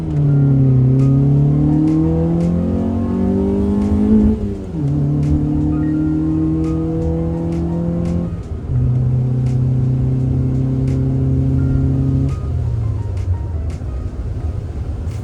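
A Honda Civic's single-cam D-series engine revs hard through several gears from a rolling start, pitch climbing then dropping at each shift, loud and steady with no talking.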